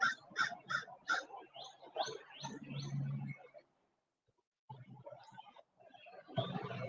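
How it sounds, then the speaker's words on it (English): A crow caws several times in a quick series of harsh calls, then a few more, fairly near and fading toward the end, with quiet gaps between. "Caw, caw, caw, bang, quote, I'm dead. That was from the that was from the crow."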